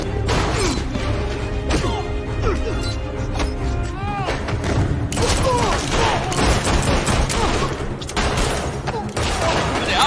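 Rapid bursts of gunfire crackle almost continuously over a dense, noisy battle din in a police action film, with voices shouting underneath.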